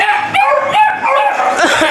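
A dog gives close, loud, high yips and short barks in quick succession, with a whimpering quality.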